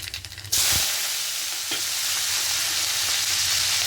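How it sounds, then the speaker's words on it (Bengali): Nigella seeds and green chillies dropped into hot oil erupt into an abrupt, loud, sustained sizzle that holds steady for several seconds, close up and without speech. "এবার এই তেলের মধ্যে কালো জিরে ফোড়ন দেব কাঁচা লঙ্কা দেবো"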